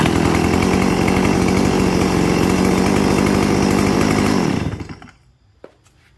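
A STIHL chainsaw engine runs loud and steady with a buzzing two-stroke drone, then is cut off and winds down to silence, followed by a single faint click.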